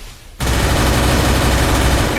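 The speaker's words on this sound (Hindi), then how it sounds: "अरे पीछे से कोई गोली चलाया है," Gunfire in a battle royale video game: after a brief quiet start, a loud, dense burst of shots runs continuously to the end, sounding close.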